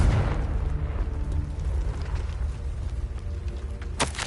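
A Confringo blasting spell in Hogwarts Legacy produces a low booming rumble that sustains through a noisy game soundscape, ending with a sharp crackling burst near the close.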